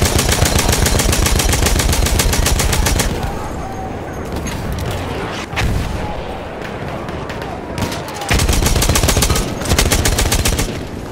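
A Perino Model 1908 light machine gun firing on the Achi Baba battlefield in a game, loud rapid bursts with pauses between strings of shots, mixed with other battle noise.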